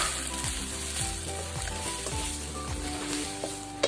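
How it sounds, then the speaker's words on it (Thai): Shellfish with oyster sauce and sweet peppers stir-fried in a hot pan give a continuous close sizzle, with regular scrapes and strokes of the spatula every half second or so, and no one talking. "แล้วก็ผัดให้หอยสุกเลยนะจ๊ะ"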